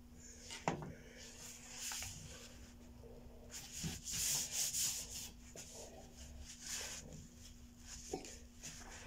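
A paintbrush rubs along the fold of a kraft paper bag with soft, close scraping and brushing strokes, quiet and uneven, punctuated by a few light taps.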